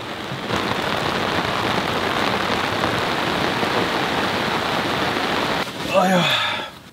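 Heavy rain drums steadily on a tent at a camp beside a rice field in Bali, a loud dense patter that runs continuously before a voice briefly cuts in near the end.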